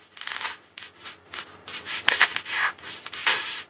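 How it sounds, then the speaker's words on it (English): Tarot cards are shuffled up close in a series of quick papery riffles and rubs, several short bursts with brief pauses between them, soft and near. "Let's do one more shuffle."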